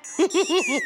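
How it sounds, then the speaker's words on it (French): A short electronic app notification chime of four quick rising-and-falling tones, bright and close, in rapid succession. "Loli, c'est le son de la notif."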